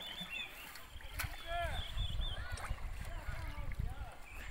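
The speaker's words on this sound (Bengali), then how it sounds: "এই দানসিরি নদীতে আমরা নৌকা চালাচ্ছি" A boat being rowed on the Dansiri river, with soft splashes and oar sounds under steady outdoor ambience, birds chirping now and then and distant voices.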